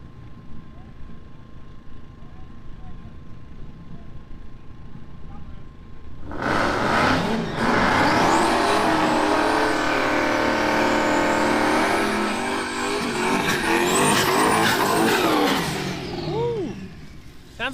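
A manual-transmission Ford Mustang at a street drag race revs hard for about ten seconds, a loud, sustained engine roar rising and wavering. Before it the background is quieter with crowd ambience, and an announcer talks over the scene.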